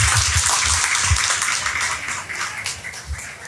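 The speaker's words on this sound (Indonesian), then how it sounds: "Saya tepuk tangan yang meriah untuk Arif Zulkifli atau Mas Azul." Audience applause at a Tempo anniversary celebration, a dense steady wash of clapping hands that fills the space without pause, fairly loud and continuous.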